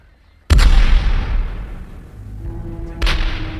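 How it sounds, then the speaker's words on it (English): Two booming cannon shots ring out at sunrise over Havana, the first sharp and close with a long rolling echo, and the second following about two and a half seconds later. "the citizens of Havana awoke to a cannon shot"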